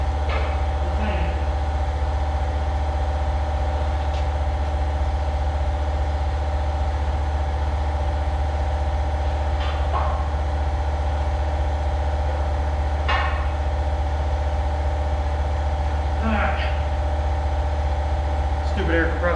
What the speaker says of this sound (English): Stupid air compressor.